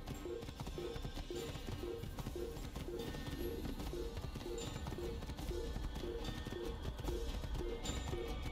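Horse hooves in the video game Assassin's Creed clip-clop at a steady walking rhythm, an even run of soft beats held at a low level from start to end.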